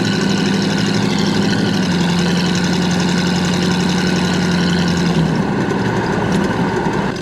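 A 1967 Chevrolet Camaro convertible with its original 327 engine and 3-speed automatic transmission idles in a steady, close rumble with a faint mechanical whine and no voices. The tone shifts slightly lower partway through.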